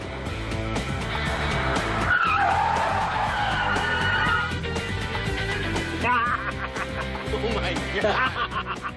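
A car with an automatic transmission brakes hard on asphalt in a stopping-distance test, letting out a long, loud tire squeal as it skids to a halt, while people talk and laugh nearby.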